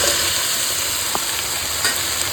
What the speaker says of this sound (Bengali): দিয়ে ভালো করে হাই হিটে কষাবো, সব কিছু কষাবো হাই হিটে